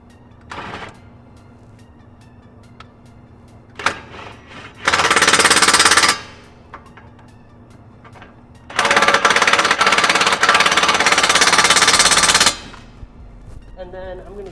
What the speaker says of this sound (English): I'm gonna go ahead and impact these back on.